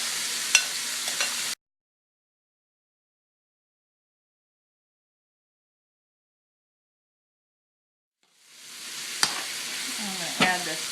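Onion and green pepper sauté in a pan for baked stuffed zucchini, a close sizzle with scraping stirs that cuts out into a long silence before the frying hiss returns with more stirring.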